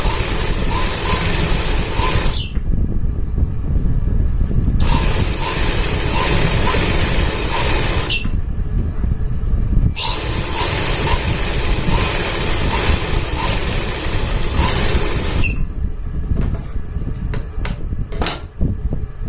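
A sewing machine stitches a pajama in loud, close bursts of rapid mechanical whirring, broken by short pauses between runs of stitching.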